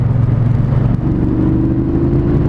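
A loud Triumph Bonneville Speedmaster motorcycle engine drones steadily, its pitch rising slightly as it accelerates, heard up close with a constant rumble.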